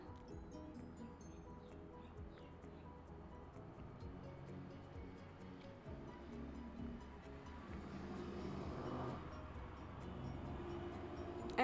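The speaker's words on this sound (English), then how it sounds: "a really noisy truck just went past" A noisy truck passes outside, a low, distant rumble that slowly builds and grows louder toward the end, heard faintly from indoors.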